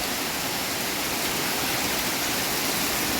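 A waterfall in the Harairz forest near Nurabad Mamasani pours into a rock pool, a steady, loud, broadband rush of falling water that fills the scene without pause.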